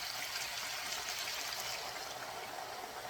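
White wine pours over meat for Sicilian braciole in a steady, close stream for a few seconds, a soft continuous splashing trickle with no talking.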